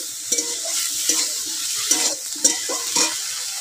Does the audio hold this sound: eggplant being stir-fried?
yes